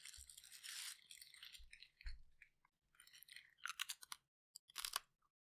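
Crunchy Milano-style cookie snack chewed close to the mic, with several bursts of loud, crisp crunching separated by short pauses; no talking.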